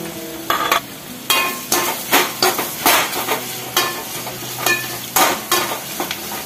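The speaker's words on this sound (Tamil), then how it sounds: "கொஞ்சம் மீடியம் ஃப்ளேமில் வச்சு இந்த ஆனியனை ஃப்ரை பண்ணிக்கலாம்." Chopped onion fries in oil in a pan over a medium flame, with a steady sizzle and repeated scraping stirs from a spatula, about a dozen strokes in an uneven rhythm, close and fairly loud, with no talking.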